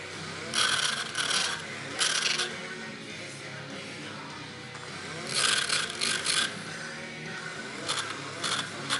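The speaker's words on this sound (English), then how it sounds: "I'll just quickly take this burr off of here." Hand file scraping a burr off a freshly cut steel steering stabilizer part for a Suzuki Samurai, bursts of raspy strokes in short clusters, close and fairly loud, separated by quieter pauses with faint background noise.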